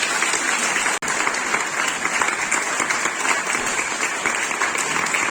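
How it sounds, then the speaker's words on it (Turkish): A concert audience applauds in a hall as a conductor is welcomed to the stage, a thick, even burst of clapping that continues throughout. "alkışlarınızla sahneye davet ediyorum"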